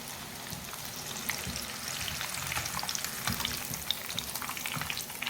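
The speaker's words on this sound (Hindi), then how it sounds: "आलू और चिकन के कबाब हमारे मीडियम फ्लेम पर फ्राई हो गए" Potato and chicken kebabs fry in oil over a medium flame, a dense crackling sizzle with popping bubbles, close and steady throughout, no talk.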